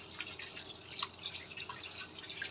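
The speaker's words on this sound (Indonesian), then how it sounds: "kita cuci satu persatu sini-sininya benar-benar dicuci yang bersih" Wood ear mushrooms, soaked in hot water, are rinsed one by one, giving faint scattered drips and light splashes of water in a basin with no one speaking.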